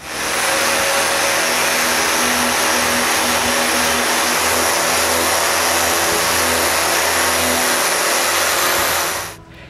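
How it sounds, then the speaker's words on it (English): A power sander grinds loudly and continuously over a black-painted wood carving, clearing excess paint around the carved area, then cuts off abruptly at the end. "When the paint is dry, I need to sand the mess around the carving."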